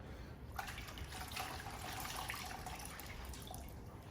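Water running and trickling steadily over polished aluminum siding on a vintage camper during a rinse, a continuous broadband splash with faint drips, fairly quiet and alone.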